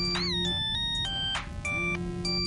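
A phone ringtone in the Henry Stickmin escape-the-complex game plays loud and close as a bright electronic melody of stepped tones, repeating through the whole stretch with no talk over it.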